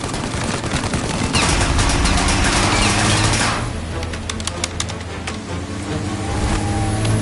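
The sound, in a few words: gunfire shooting at a car windshield in the video game Mafia: Definitive Edition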